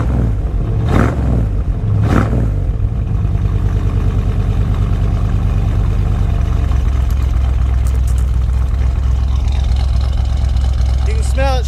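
A 1970 Chevy Suburban engine cranks and fires up, then settles into a loud, steady, rough-sounding idle that runs throughout, close by.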